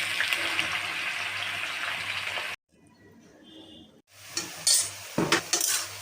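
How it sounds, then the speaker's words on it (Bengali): Snake gourd (chichinga) sizzles and is stirred in hot oil in a wok, loud and close at first. A brief near-silent gap follows, then the frying and scraping return in uneven bursts. "আমি তেলটা একটু দিয়ে ভেজে নিচ্ছি। চিচিঙ্গাগুলো আমি ঢেলে দিচ্ছি।"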